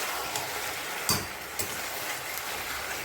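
Chicken curry meat sizzles quietly in a pan while being stirred; soft, steady frying hiss runs throughout, broken by a few short scraping clinks from the spoon, with no talking.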